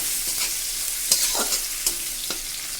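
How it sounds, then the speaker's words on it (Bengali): Coconut frying in a pan for a pumpkin chhokka, with steady high sizzling and a few sharp stirring scrapes and clinks close by, no talking. "হালকা করে আমি নারকেলটা ভেজে নেব"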